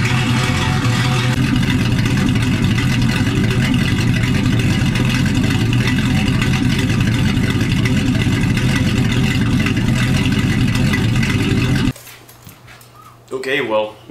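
A 1978 Ford Fairmont engine, its vacuum line plugged back into the transmission actuator, runs steadily and loudly for about twelve seconds, then cuts off, leaving quieter background sounds and a brief noise near the end.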